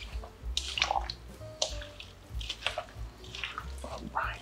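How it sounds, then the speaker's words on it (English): Shrimp ceviche with coconut milk and salt gets a thorough stir in a bowl, giving close, wet squishing and sloshing sounds in short irregular bursts. "And then I'm gonna give it all a good stir."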